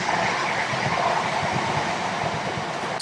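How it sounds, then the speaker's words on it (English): A train passes close by on a quiet rural walk at Warren Farm, a loud steady rumble with rail noise and faint rhythmic clatter that fills the whole stretch without any talk. "There's another train coming."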